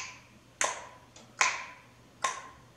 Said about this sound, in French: Ça, c'est le snap.